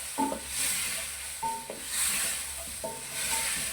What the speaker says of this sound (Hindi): पहले ये चिकन को हल्का सा फ्राई कर लिया करें